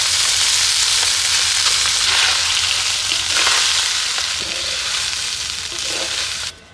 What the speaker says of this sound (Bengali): গোটা গোলমরিচ এবার ভালো করে নেড়ে চেড়ে নিচ্ছি